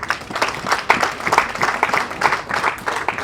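Uniformed officers and guests applaud their spouses at a UPDF ceremony at Makerere, with a moderate, uneven patter of clapping that pulses with small swells and carries on throughout.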